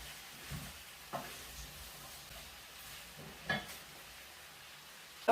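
Okra cooks with smoked meat in a pot under a faint, soft sizzle, while a spoon stirs in a few scattered knocks and scrapes, close and quiet.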